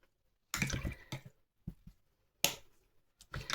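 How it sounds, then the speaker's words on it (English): Paintbrush rinsed in a water jar during watercolour painting, a few short splashy swishes and clinks separated by quiet gaps, close and fairly soft. "Give my brush a bit of a rinse."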